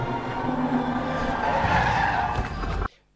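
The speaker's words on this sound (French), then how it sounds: "Premier point négatif du film, la voiture dans le cul de Catwoman." A car skids with a long, loud tire squeal and engine roar in a Catwoman film scene, sustained for nearly three seconds before cutting off abruptly into near silence.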